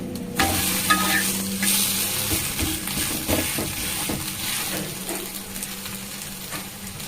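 Masala roti sizzles steadily in a hot pan as it cooks and is flipped, with continuous frying crackle and a few light scraping touches close by.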